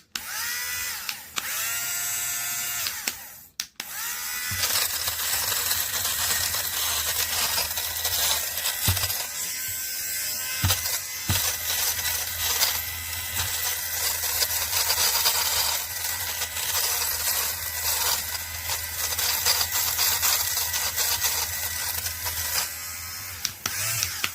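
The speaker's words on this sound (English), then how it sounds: "it's a thin fleece hoodie that has a lot of stuff that needs shaving. So here we go. It's kind of loud" A battery-powered Ruidla fabric shaver runs against a thin fleece hoodie, a loud close buzzing whir that starts after a few brief bursts and then holds steady, with scratchy rasping as it skims the pilled fabric.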